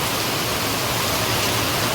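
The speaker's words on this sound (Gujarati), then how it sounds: "અત્યારે અમને ચાલુ વરસાદ થઈ ગયો છે હળવો હળવો હળવો હળવો" Light rain falls steadily in a Gujarati village, a continuous soft hiss of drops with no break and no voices.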